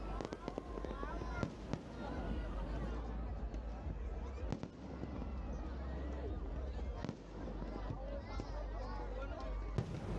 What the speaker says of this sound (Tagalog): habang pumuputok yung mga firecrackers